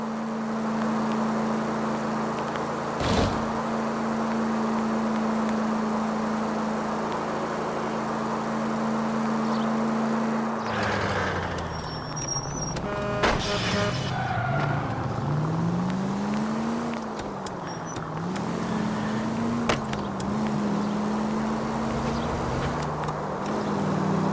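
A car engine in the video game L.A. Noire idles at a steady drone, then revs and accelerates hard, its pitch rising and falling through gear changes with tire and traffic noise around it.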